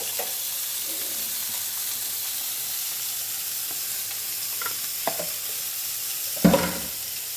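Poa fish frying in oil in a pan, with a steady sizzle throughout and a few soft stirring scrapes, ending in a louder clatter near the close.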